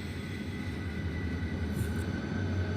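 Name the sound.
K5L train horn mod on P42 locomotive in railroad video game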